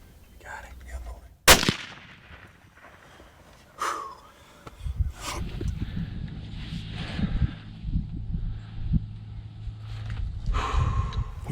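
A single sharp rifle shot at a mature buck during a morning deer hunt in Oklahoma woods, loud and abrupt, followed by hushed breathing and quiet talk amid rustling outdoor ambience.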